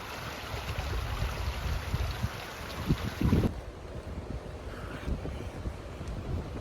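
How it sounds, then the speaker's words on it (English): Strong wind on an outdoor morning walk, rumbling and buffeting the microphone in low gusts, fairly quiet overall with no talking. "oh, so windy"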